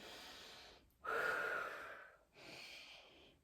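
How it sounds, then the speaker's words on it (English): Slow, close breathing through nose and mouth during a relaxation exercise: a soft airy exhale, a sharper gasping inhale, then another long breath, quiet and unvoiced. "you can also switch to nose and mouth breathing if you want to"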